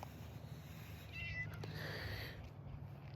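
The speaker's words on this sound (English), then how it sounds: "I'm being meowed at by a little kitty cat." A small cat meows outdoors, faint and thin against a steady low background hum of outdoor noise, with a couple of brief mewing calls in the middle.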